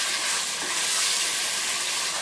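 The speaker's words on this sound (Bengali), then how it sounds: "মিডিয়াম হিটে মশলাগুলোকে প্রায় 5 মিনিট মতো আমি কষিয়ে নিলাম।" Spices cook in oil over medium heat with a constant bright sizzle, close and even, with no talking and no clear stirring strokes.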